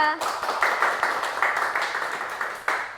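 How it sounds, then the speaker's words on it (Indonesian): A classroom of students claps hands together in a quick rhythmic pattern, bursts repeating evenly for a few seconds, close and moderately loud. "Tepuk tangan buat Mbak Nabila."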